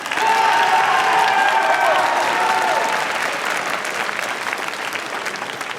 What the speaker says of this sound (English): Jaden still needs a round of applause